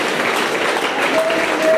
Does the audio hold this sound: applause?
yes